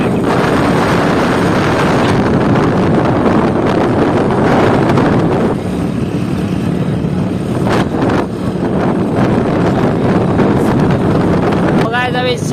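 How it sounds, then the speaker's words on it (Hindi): A motorbike ridden along a rough single-lane village road toward farm fields, with heavy, steady wind roar buffeting the microphone and a low engine rumble underneath, continuous and loud throughout. "बाइक चला रहा हूँ"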